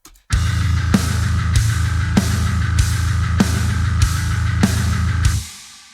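Heavy drums pound a steady beat under a thick, sustained low bass guitar line, loud and dense throughout, then cut off and fade.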